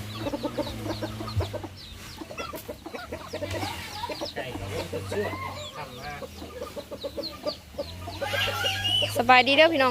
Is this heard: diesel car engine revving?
no